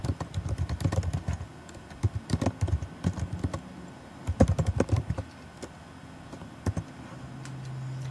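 Typing on a Mac computer keyboard, with rapid clusters of crisp key clicks in uneven bursts and a few brief pauses, heard close and alone.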